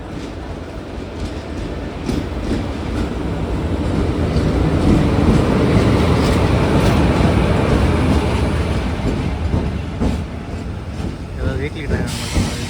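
Train in motion on the Hyderabad to Goa run, a steady, loud rumble of wheels on rails with a dense rolling roar that swells mid-way and carries a faint clatter throughout, with no voices over it.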